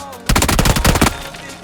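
Rapid automatic gunfire from PUBG on the snowy Erangel map, a loud burst of about a dozen quick shots lasting under a second before it cuts off.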